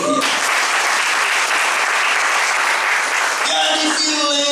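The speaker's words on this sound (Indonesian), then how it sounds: "Tepuk tangan untuk dia." A church congregation breaks into loud, steady applause at a national independence thanksgiving service, a dense wash of clapping that carries on for several seconds and thins as voices rise near the end.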